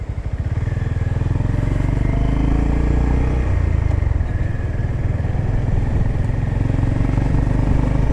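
A 2025 Honda GB350S retro-style single-cylinder motorcycle idles steadily and loud nearby, its low rhythmic thump continuous with some mechanical clatter, no talking.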